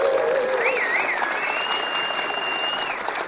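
A live audience at a Devoxx 2014 conference podcast taping breaks into dense, sustained applause, with high whistles and cheers rising over the steady clapping.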